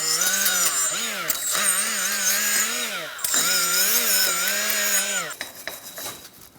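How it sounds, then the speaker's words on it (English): A wire brush scours the rear wheel hub of a 2010-2013 Kia Soul, producing a loud, close whining grind with a wavering pitch in two long passes before trailing off into scratchy rubbing. "Use a wire brush to get in that area."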